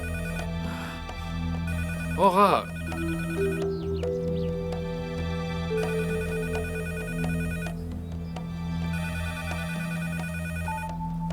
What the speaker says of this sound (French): tu devrais répondre au téléphone